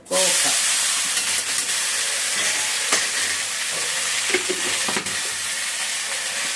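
Ivy gourd sautéing in oil in a pan, a loud continuous sizzle close by with occasional stirring scrapes and clinks over it.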